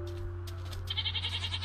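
A goat bleats in Minecraft, a short wavering synthetic cry heard once over a steady low background hum, fairly faint and alone.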